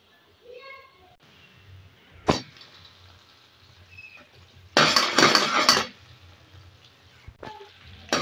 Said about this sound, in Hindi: चम्मच को हम साथ साथ चलाते जाएंगे और गोल्डन कलर आने तक हम इसको ऐसे ही पकाएंगे।